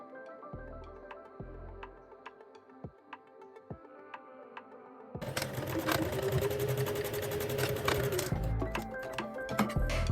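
A sewing machine stitches the folded ends of a kimono jacket's neck binding, right sides together, in a close steady whir, first in short bursts with pauses and then in one long continuous run.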